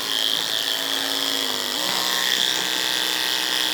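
Hair clippers buzz steadily while cutting a bald fade line, a close, continuous electric hum whose pitch dips and rises briefly as the blades meet hair, with no talking.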